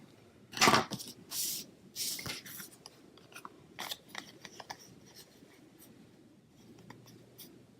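Scissors snip through reverse ribbon in a few quick, close cuts early on, followed by softer paper and crafting handling sounds.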